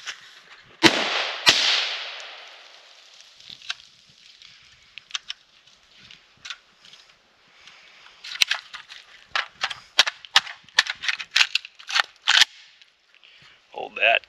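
Polish PAC Pioneer AKM Sporter rifle fired outdoors on a range, a few sharp cracks early then a rapid uneven string of loud shots emptying a magazine, with faint talk between.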